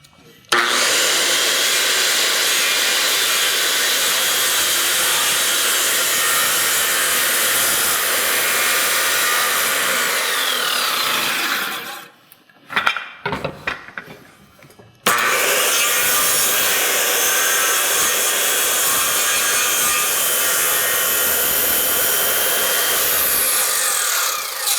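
Power saw cutting through rafter stock during roof framing, a loud steady whine that runs continuously, breaks off briefly with a few choppy bursts around the middle, then resumes at full strength to the end.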